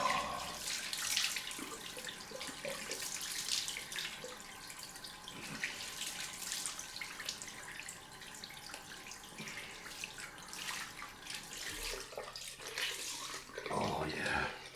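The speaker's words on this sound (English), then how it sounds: "I'm going to do a cold rinse" Tap water running for a cold rinse after a straight razor shave, a steady splashing rush from a faucet into a sink with hands moving through the stream, continuous and close.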